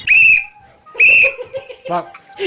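A man whistles two loud, sharp, sustained blasts in quick succession, followed by short vocal sounds.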